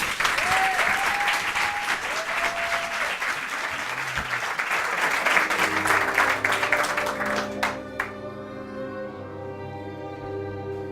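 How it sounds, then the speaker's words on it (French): Warm audience applause in a television show studio, dense clapping with a few sung or whistled tones over it, fading out as music chords take over near the end. "Je vous demande d'applaudir Laura Elko."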